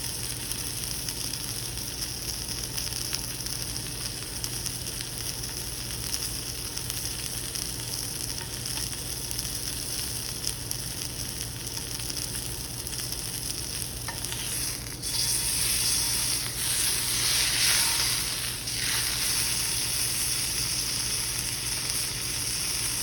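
Chicken breast sautés in a hot pan with a steady, dense sizzle throughout, getting louder and brighter near the end as the pieces are moved and stirred; no one speaks.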